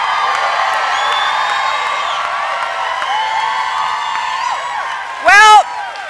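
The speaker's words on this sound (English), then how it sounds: "This is quite an enthusiastic crowd here" An enthusiastic crowd at a political rally in Maine keeps up a continuous roar of cheering and whoops, near and loud, with a sharp shout bursting out near the end.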